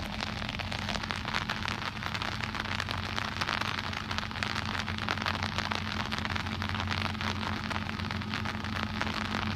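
Steady rain patters densely on an umbrella overhead, a close, even hiss of drops with a faint low hum beneath and no talking.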